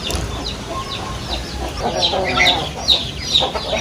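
Several chickens cluck in short, bright bursts, close by and fairly loud, over a low steady background rumble.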